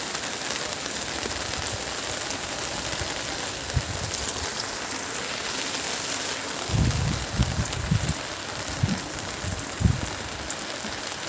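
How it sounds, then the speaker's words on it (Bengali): Heavy rain falling steadily on potted adenium plants outdoors, a dense even hiss with occasional louder low drops and splashes, no voices. "প্রচুর বৃষ্টি হয়েছে"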